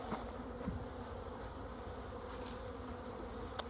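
Bees buzzing outdoors in the early evening, a low continuous drone close by, faint and steady with a small click near the end and no talking.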